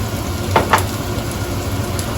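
Spices sizzling in hot oil in a pan for a banana blossom dish, a steady close hiss with two brief stirring scrapes near the start.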